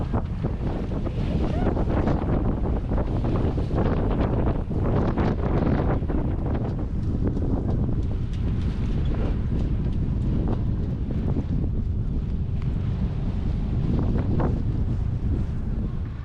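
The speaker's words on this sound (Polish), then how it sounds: "płyniemy mamy 24 węzły wiatru, troszkę nam tutaj kipi ta woda" Strong 24-knot wind roars constantly across the microphone while water rushes and churns around a moving sailboat heading into the Beaulieu River, a loud, unbroken buffeting rumble.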